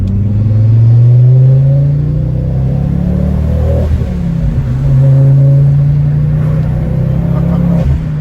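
A 2007 Ford Focus ST engine pulls hard uphill after a downshift, a loud close-up growl with steady rumble that rises and dips through the climb, heard from inside the car with no talk.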